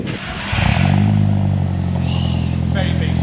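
A first-generation Audi TT 225 four-cylinder with a 3-inch turbo-back exhaust revs up loudly and then holds a steady, deep bassy drone, recorded close with a person talking over it.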